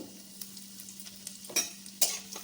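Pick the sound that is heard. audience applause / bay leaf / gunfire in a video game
bay leaf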